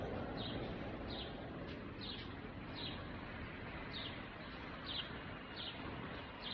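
A sparrow chirps in a steady run of short, faint, evenly spaced calls, about one every 0.7 seconds, over a broad, constant background hiss.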